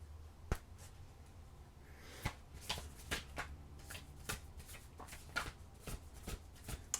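Tarot cards are shuffled and drawn, soft papery riffles and sharp flicks and snaps arriving irregularly, close and quiet, with no voice over them.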